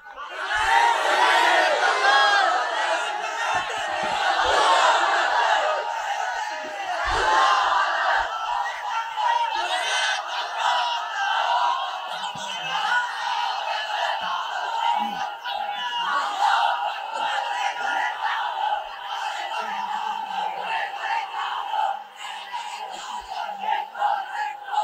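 A large crowd at a religious gathering chants slogans in loud unison, rhythmic shouted calls and responses repeating over the whole stretch, dense and reverberant with occasional individual voices.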